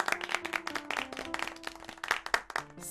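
A classroom of schoolchildren claps for a classmate, a dense burst of many hands applauding together at close range and fading slightly toward the end, with no talk.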